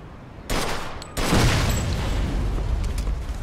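A heavy explosive boom in the video game Mafia II: Definitive Edition, with a broad roaring burst that continues as a loud, sustained rumble, following an earlier blast-like onset.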